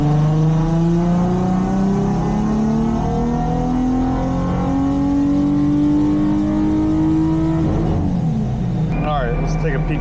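Supercharged flex-fuel Nissan 350Z engine revving hard through a sustained pull, its pitch climbing steadily and loud before cutting off near the end.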